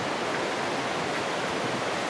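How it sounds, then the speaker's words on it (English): Nevada Falls waterfall and the river feeding it in Yosemite, heard near the top: a steady, dense roar of rushing, falling water, broadband and unbroken, with no voices. "Now I'm at the top of Nevada Falls, or close to it. That river feeds it."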